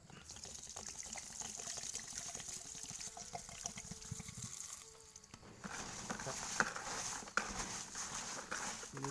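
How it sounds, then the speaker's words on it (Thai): About a litre of water pours into a container for a banana shoot microbial mix, giving a continuous gushing, filling sound that dips briefly midway and then resumes, close and moderately loud. "ใส่น้ำเข้าไปสักหนึ่งลิตรนะครับ"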